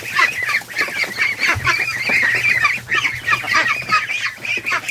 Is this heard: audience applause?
no